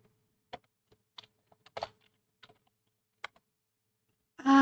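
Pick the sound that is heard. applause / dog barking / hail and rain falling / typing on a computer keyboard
typing on a computer keyboard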